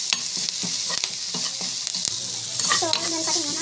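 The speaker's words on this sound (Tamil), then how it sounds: "பெருங்காயம், சால்ட்டு நல்லா போட்டு வதக்கிக்கோங்க" Nuts sauté in a pan with turmeric powder, asafoetida and salt, giving a steady close sizzle with repeated scraping stir strokes throughout; there is no speech.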